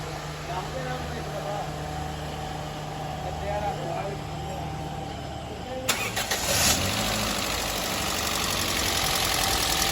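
Toyota XLI car engine with a sound problem cranking and starting, then idling with a rough mid-pitched rumble, close by, with people talking over it.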